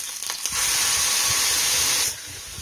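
Ground tomato chutney paste hits a hot pan with curry leaves and sets off a loud, hissing sizzle. The sizzle swells up, holds steady for about a second and a half, then drops back to a softer simmer, with no voices.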